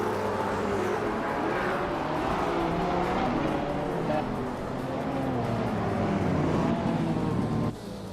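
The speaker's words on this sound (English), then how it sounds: "Amy is driving a 2019 Lamborghini SC18 Austin, which is a rare and aggressive supercar" Lamborghini SC18 supercar, 2019 model, racing in a video game, engine roaring steadily with tire squeal and other cars nearby, a continuous loud drone that drops slightly at the very end.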